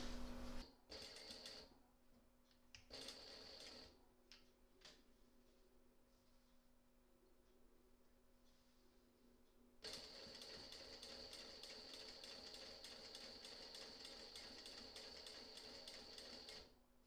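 A sewing machine stitches binding onto panel edges, a faint rapid mechanical clatter that starts, pauses briefly, then runs steadily for several seconds, quiet and close, with no talking.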